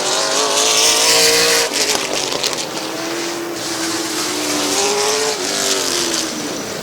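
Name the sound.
race car spinning out in turn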